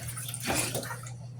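Water running briefly from a tap into a sink while dishes are washed, a short splashing rush that swells in the middle and then tapers off over a steady low hum.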